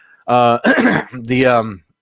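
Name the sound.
cough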